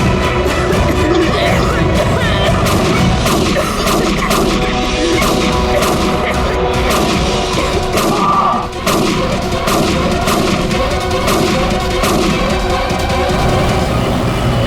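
Repeated sharp gunshots crack out in irregular bursts over a dense, noisy background rumble, fairly loud and sustained across the scene.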